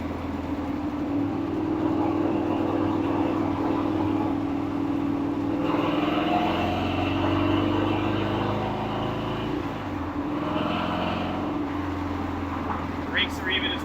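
A Ford Racing 427ci V8 in a 1935 Factory Five hot rod roars loudly and steadily while driving, its low engine drone holding throughout with shifts in pitch as it revs and changes gear.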